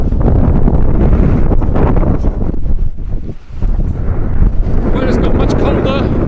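Strong wind buffets the microphone at an exposed coastal landslip, a loud, continuous roaring rumble with a brief lull midway.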